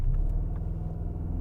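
An Audi RS Q8 launches hard under launch control, a loud, steady low engine rumble and road roar holding for the whole moment without a break, close and alone.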